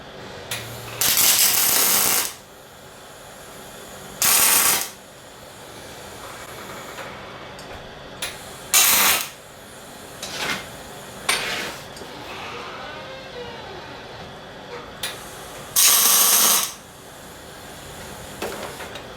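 Steel legs being tack welded onto a homemade rocket stove, with five short bursts of crackling, hissing welding arc spaced a few seconds apart, loud and close, separated by quieter shop background.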